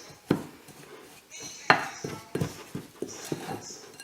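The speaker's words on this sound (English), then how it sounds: "I'm just mixing this all up." Butter being mixed into a crumble topping in a bowl, giving irregular clinks, scrapes and soft taps of utensil against the bowl at close range, with no talking.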